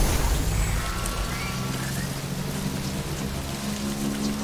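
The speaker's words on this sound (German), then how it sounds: "Es regnet, ja, aber." Steady, even rain hissing throughout in the video game Death Stranding, a constant wash of falling water with no voices.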